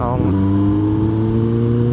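A sport motorcycle engine, a Hayabusa or ZX10RR, hums steadily at close range with a strong droning tone, shifting slightly at the start, then holding even.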